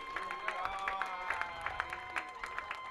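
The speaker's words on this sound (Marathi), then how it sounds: "आपण उभे राहून जोरदार टाळ्या वाजूया" A cricket crowd at a local final applauds the Indian team, with scattered, rhythmic claps standing out over a sustained tonal voice or chant.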